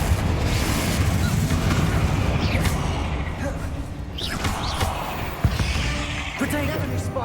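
A Confringo blasting spell in the video game Hogwarts Legacy sets off dense, rumbling booms and bursts with whooshes in the middle of a busy combat mix, loud and continuous for several seconds.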